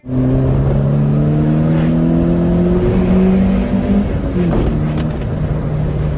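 A 25-year-old Peugeot 206 S16 with its naturally aspirated engine drones steadily from inside the cabin while driving, the engine note rising and falling as the throttle changes, loud and close throughout.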